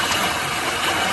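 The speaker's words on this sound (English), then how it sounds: "There's the engine running right there." A 1930 Ford Model A engine runs, a loud, steady, rough mechanical rumble heard close up without talk.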